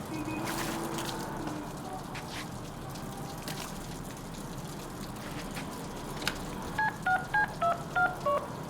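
Touch-tone telephone dialing in the Deadpool video game: a quick run of about eight short, even beeps near the end, after a stretch of quiet game ambience.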